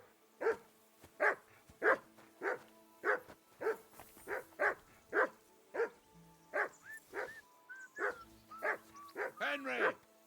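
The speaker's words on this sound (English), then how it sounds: "Henry, whistle at that mutt of yours to stop barking." A dog in the medieval video game Kingdom Come: Deliverance II barks persistently, over twenty evenly spaced barks at close range, turning to higher yips and whines near the end, while voices talk faintly underneath.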